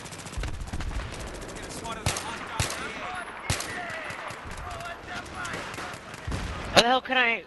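Gunfire in a multiplayer shooter video game, with rapid automatic bursts and sharp individual shots scattered throughout, moderately loud against constant game noise, with players talking over it.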